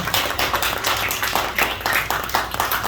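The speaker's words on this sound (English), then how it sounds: "So let's give them a round of applause." An audience at a top producer awards event gives a sustained round of applause, dense and continuous clapping from many hands, with no speech over it.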